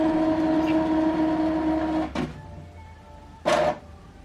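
An Epson XP-3155 inkjet printer initializes after a cartridge change: a steady mechanical hum with tonal whine runs for two seconds, then two short bursts of carriage movement follow, close and moderately loud with no talking.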